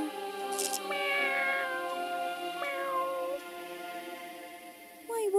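A cat meows in the video game Fran Bow: three separate drawn-out meows, clear and fairly loud, spaced a second or two apart over a quiet background.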